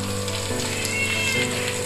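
Ingredients sautéing in a pan for Jaffna-style prawn upma, a continuous crackling sizzle with a steady hum beneath, close and even throughout.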